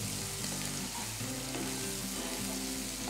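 Mixed vegetables for navratan pulao fry over a medium gas flame, a steady close sizzle broken by rhythmic scraping and stirring in the pan throughout.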